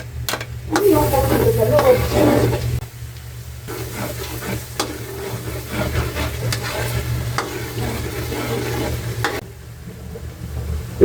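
Garlic sizzles and fries in butter in a pan, a steady close crackle with occasional stirring scrapes and brief clicks, a low hum underneath and louder in the first few seconds.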